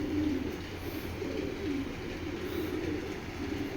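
Pigeons coo softly in a low, rolling murmur against a steady background hum, with no voices nearby.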